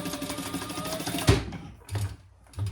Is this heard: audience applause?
no